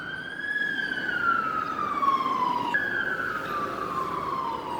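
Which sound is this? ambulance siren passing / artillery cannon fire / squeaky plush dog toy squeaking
ambulance siren passing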